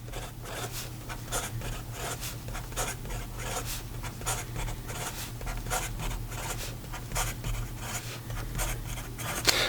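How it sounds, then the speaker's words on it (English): A Benu Blue Frost fountain pen scratches quickly across paper in a steady run of fast, close writing strokes, with a low constant hum underneath and no talking. "And then in regard to some fast writing,"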